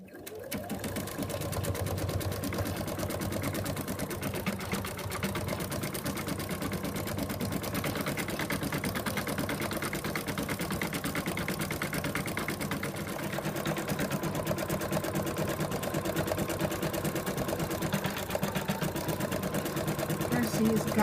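An embroidery sewing machine quilts a zip-top bag in the hoop, running with a steady, loud, continuous mechanical hum and rapid needle chatter throughout.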